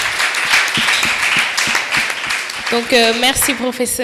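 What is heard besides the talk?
audience applause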